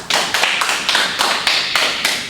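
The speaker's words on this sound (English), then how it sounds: "A round of applause, please" A conference audience claps for two expert guests, a loud, close burst of applause rising and falling in roughly even surges, with no voices over it.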